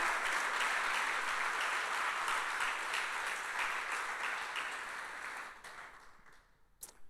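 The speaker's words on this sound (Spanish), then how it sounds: "¿Qué te parece si le das un aplauso al Señor esta mañana?" A church congregation bursts into applause during a Sunday morning sermon, a dense, sustained wash of many hands clapping that holds steady, then thins and fades out near the end.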